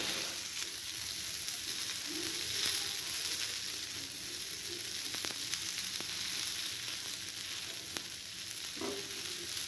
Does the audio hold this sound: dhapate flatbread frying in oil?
yes